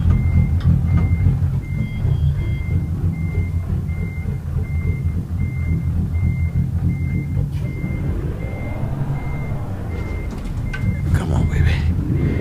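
A truck's reversing alarm beeps in a steady, evenly spaced series over the heavy rumble of the engine while the truck backs up. A voice speaks faintly beneath the noise.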